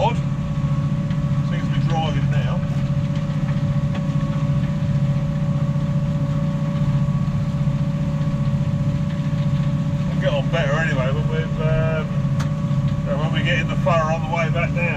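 A New Holland T7 tractor engine drones steadily as it pulls a Dowdeswell DP7 plough through wet, slippery muck, a constant low hum running throughout with occasional speech over it.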